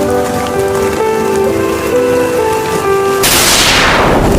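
Heavy rain suddenly bursts in as a steady, loud hiss after a stretch of background music, continuing to the end with no talking.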